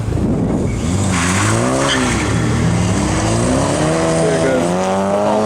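A car runs an autocross course in the rain, its engine revving up and down steadily through tight sections as tires hiss on wet pavement, with a commentator's voice speaking over it throughout.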